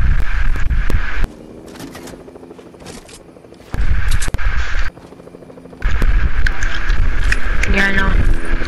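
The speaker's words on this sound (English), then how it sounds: "The chopper's really low." Low-flying helicopter in an online shooter game, a steady rotor drone running through most of the stretch and dipping briefly between louder bursts, with players talking over it throughout.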